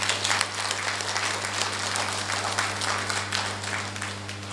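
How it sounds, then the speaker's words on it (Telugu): An event audience applauds with dense, sustained clapping under a low steady hum from the hall's sound system. "ఇద్దరికి గట్టిగా చప్పట్లు కొడదాం"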